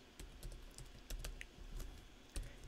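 Someone types on a computer keyboard while editing a WordPress 4.0 theme: quiet, close key clicks in short irregular bursts with small pauses between them, and no talking.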